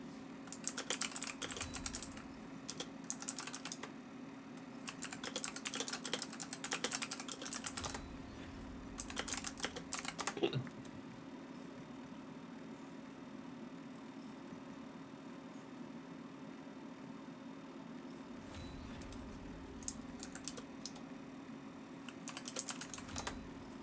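Rapid bursts of mouse and keyboard clicking for honing gear in Lost Ark, clustered in fast runs with short pauses, over a steady low hum from the room.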